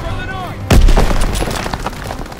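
A sudden loud boom opens a burst of rapid gunfire and explosions in the Call of Duty WWII campaign intro, with a rumbling battlefield tail and voices shouting nearby.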